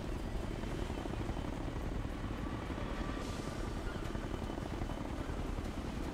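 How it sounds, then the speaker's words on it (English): Helicopter rotor thumping steadily and loudly overhead in the Ghost Recon Future Soldier video game, a dense continuous wash of rotor and engine noise filling the whole stretch. "Helo's right above us."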